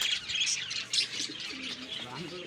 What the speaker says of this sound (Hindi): ये सामने उड़ रहे हैं कबूतर, ये जा रहे हैं नीचे।